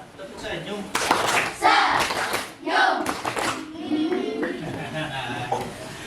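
A school class clapping a rhythmic cheer together, bursts of crisp group claps in short patterned sets alternating with a teacher's voice calling out between them.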